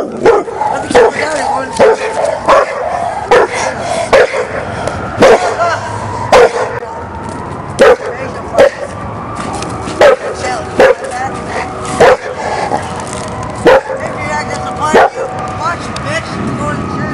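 Dog barking in repeated sharp bursts with some yips through a heated argument at night, the barks loud and close and mixed in with steady speech.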